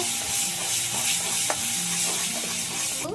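Green peas frying in hot oil while being stirred, a steady close sizzle with faint scraping of the spoon, no talking.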